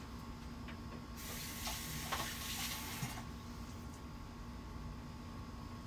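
Herbs for a chunky guacamole are rinsed under running water, a close, steady hissing stream lasting about two seconds, with quiet room tone before and after.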